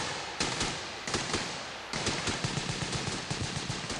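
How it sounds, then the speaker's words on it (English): A Navy SEAL squad fires live ammunition while practicing a coordinated leapfrog movement across rough terrain, with sharp bursts and rapid strings of rifle shots overlapping at varying distances and no talk. "This SEAL squad is practicing a coordinated leapfrog movement using live ammunition."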